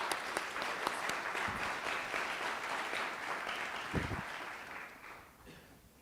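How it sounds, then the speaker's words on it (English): Applause from an audience at a campaign event, a dense burst of many hands clapping that holds steady and then tapers off toward the end, fairly close and full. "let's give a round of applause for"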